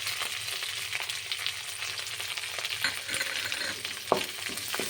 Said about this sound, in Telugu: ఇవి దోరగా వేయేంత వరకు మనం కలుపుతూ వేయించుకోవాలి.